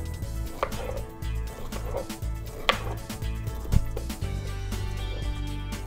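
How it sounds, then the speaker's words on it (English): A knife chops pineapple into wedges on a cutting board, dull thuds repeating steadily close by over a low continuous background hum. "And now we can go ahead and make our pineapple wedges."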